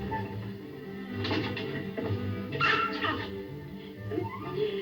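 A small dog called Chichi yips and whimpers up close in a scene from an old Abbott and Costello comedy set in New York, a few sharp barks mixed with higher whining cries.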